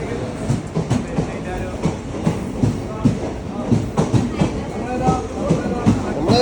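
A passenger train rolls into a station with rhythmic clickety-clack of wheels over rail joints and a low rumble, steady and fairly close, while people talk in the background.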